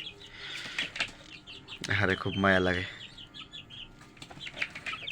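Chickens cluck and briefly flap their wings nearby while a person talks over them.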